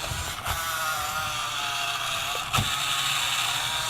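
The steering servo of a WPL C14 1/16 scale Toyota toy crawler whines steadily with a mechanical, gear-like texture, broken by a couple of brief clicks, close and continuous.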